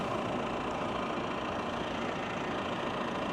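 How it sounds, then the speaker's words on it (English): A continuous, steady engine drone from a tractor running nearby with a mower during silage cutting, dense and unchanging throughout with no voices. "So there's tractor and mower."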